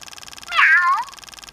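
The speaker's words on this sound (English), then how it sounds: "Apparently now there is a cat." A Spin Master Bitzee virtual pet toy cat gives a single short electronic meow, close and clear over a faint rhythmic electronic pulsing from the toy.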